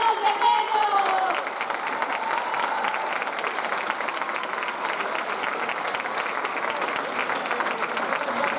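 A crowd applauds steadily after a musical performance at a graduation event; a faint voice or singing fades out at the start, then dense, even clapping continues at moderate volume until the end.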